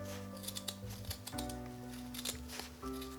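Scissors trim fabric around a sewn dress waist in a series of crisp, close snips with quiet rustling of the cloth between the cuts.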